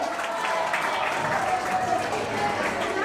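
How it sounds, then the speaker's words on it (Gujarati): Crowd applause for a teacher at an institute's annual function, a continuous, even wash of clapping from a sizable audience, holding steady throughout with some voices blended in. "આપણી મેડમ માટે જોરદાર તાળીઓ થઈ જાય"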